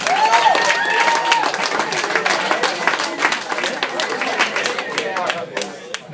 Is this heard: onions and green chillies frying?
no